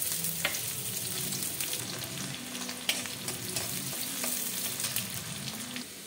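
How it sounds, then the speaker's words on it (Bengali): Sliced onion fries in hot mustard oil, a soft, steady sizzle with occasional sharp pops and light stirring clicks, fairly quiet throughout with no talking. "তেলটা গরম হয়ে গেছে, দিয়ে দিলাম পেঁয়াজ।"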